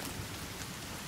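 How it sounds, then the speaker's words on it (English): Rain falls in the video game The Forest as a steady, soft hiss of drops with no break. "What, what even is this thing? Rain. It's actually rain."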